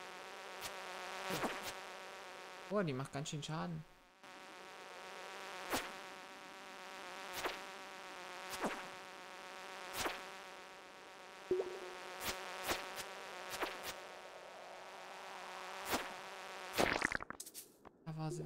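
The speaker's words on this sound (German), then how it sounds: "jetzt kommt doch noch wieder so eine hässliche Fliege" A fly buzzes steadily in Stardew Valley, a continuous droning hum with periodic sharp clicks. It plays fairly quietly under a brief spoken remark.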